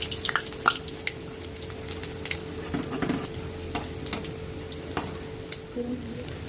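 Bengali fritters (bora) fry in oil with a faint, steady sizzle, broken by occasional sharp clicks and taps, and no one speaking.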